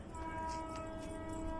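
A train passes close by, its horn blaring in one loud, sustained blast over a steady rolling rumble of the railcars.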